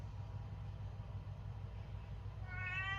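Momo the cat gives a single meow near the end, loud and close, over a steady low engine-like hum that fills the whole stretch.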